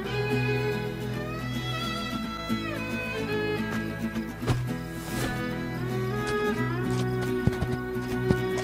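A horse gallops along in the Spirit Lucky's Big Adventure game, its hoofbeats running under a bright, steady musical score that carries through the whole stretch.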